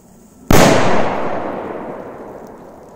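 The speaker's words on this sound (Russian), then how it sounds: "бахнем в одну мощную петарду." A single loud firecracker blast bursts suddenly, followed by a long echoing rumble that slowly dies away.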